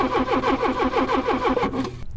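A long-abandoned Porsche 944 cranks over on its starter without catching, a rapid rhythmic chugging of about a dozen even compression pulses, loud and close, cutting off abruptly at the end.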